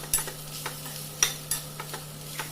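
Vegetables cut for white sauce pasta fry lightly in a little olive oil in a pan, giving a soft, steady sizzle broken by several sharp stirring clicks and scrapes of a utensil.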